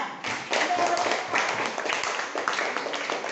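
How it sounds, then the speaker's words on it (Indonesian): A class of students applauds a classmate's correct answer, a dense patter of clapping with sharp individual claps, fairly close and moderately loud throughout. "Tepuk tangan dulu"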